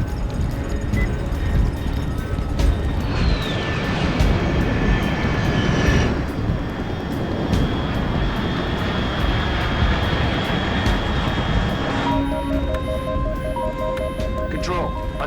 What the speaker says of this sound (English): Unidentified aircraft detected.